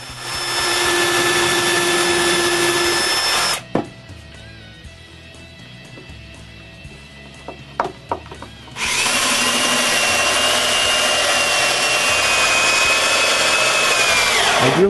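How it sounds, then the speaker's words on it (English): A power drill whines loudly and steadily drilling holes in a wooden router cabinet, stops for a few seconds of quieter clatter, then starts up again and runs continuously. "I drill some holes for the power cord and the dust port."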